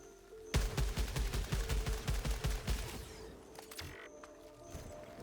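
A rapid burst of weapon fire in the video game Returnal, roughly a dozen punchy shots in even succession for about two and a half seconds, then a few scattered sharper blasts and fading ambience.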